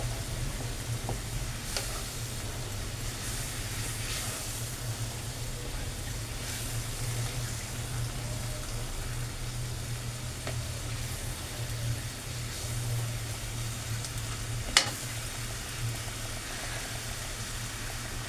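Salmon fish curry simmers in a pan, a quiet, steady sizzle and bubbling over a constant low hum. There are a few faint clinks, and one sharp tap near the end.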